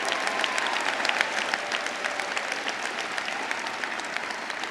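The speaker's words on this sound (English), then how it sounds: "Please give them one more round of applause." An audience at a graduation ceremony gives a sustained round of applause, a steady wash of many hands clapping at moderate level in a large hall.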